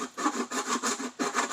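A half-round hand file rasps back and forth smoothing freshly cut edges, about five quick close strokes in a steady rhythm with no talking.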